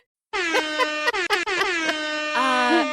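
A blaring hip-hop style air horn blasts in several rapid stuttering bursts, then holds a long loud final honk.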